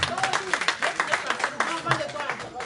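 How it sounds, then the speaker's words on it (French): Audience at an artist's press conference in a café claps in a brief burst of applause, close and moderately loud, overlapped by voices talking. "je voudrais qu'on salue également sa présence par des applaudissements nourris"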